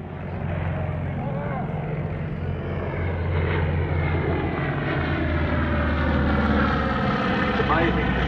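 A vintage warbird propeller aircraft at a 2021 airshow gives a loud, steady engine drone that holds throughout with a slowly shifting pitch, close and dominant.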